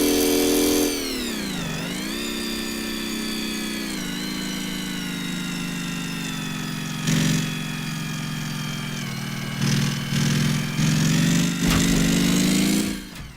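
The V engine of a sports bike in the Gearblocks game runs with a steady buzzing drone, dipping in pitch early on, then holding level with brief surges of revving, close and alone without voices.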